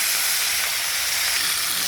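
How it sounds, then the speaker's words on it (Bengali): Pieces of catla fish fry in hot oil, giving a dense, loud, continuous sizzling hiss that stays even for the whole short stretch with no voices. "কি করবো আর ভাজা বসিয়ে দিলাম"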